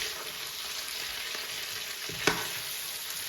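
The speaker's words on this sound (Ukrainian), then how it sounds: "от печіночка вже отримала таку хрустку скориночку. Тож зараз ми її перемішуємо" Chicken liver fries with a steady broadband sizzle in a pan, crisping as it is stirred, with a brief scrape of the utensil near the end; no voices.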